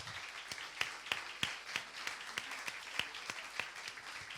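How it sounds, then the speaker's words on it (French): An audience at a church service applauds first-time visitors who have stood up, scattered claps with a few sharper hand strikes standing out over a soft, moderately distant wash of clapping. "on peut les applaudir."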